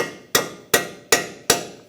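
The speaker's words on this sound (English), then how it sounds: "You could either use a cold chisel and separate it out and just hammer up" Four sharp, evenly spaced metal-on-metal hammer blows on a cold chisel, driven to split a front strut from the steering knuckle of a 2012-2018 Ford Focus, each strike ringing briefly and close.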